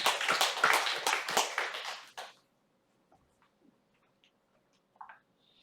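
A church congregation applauds together, a dense burst of clapping for about two seconds that stops abruptly, followed by near silence with a few faint small sounds.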